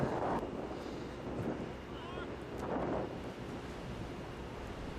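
Wind gusting across an outdoor golf course during a tournament round, a loud roaring rumble buffeting the microphone in swelling waves, continuous and close, with a faint voice underneath.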